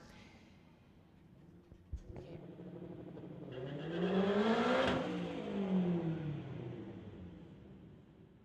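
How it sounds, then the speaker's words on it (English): Acura and Infiniti street cars launch side by side at a drag strip, engines swelling from a steady idle into a loud, rising roar of acceleration that peaks and then recedes down the track, with a sharp crack near the start. "Acura versus Infiniti. Wow, what a great start on that spectator lane."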